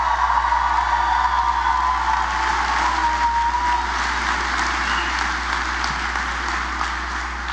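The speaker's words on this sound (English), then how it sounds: "Let's give them a round of applause" A crowd at an April 2016 Bernie Sanders political rally in Eau Claire applauds without a break, with a dense, even roar of clapping over a low electrical hum and a few scattered cheers.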